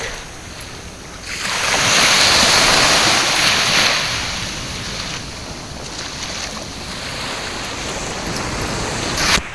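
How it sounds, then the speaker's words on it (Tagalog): Calm sea washing against the shore beside a fishing boat, a broad steady rush that swells and eases, mixed with gusty wind buffeting the microphone. "Ganda ng dagat, tahimik."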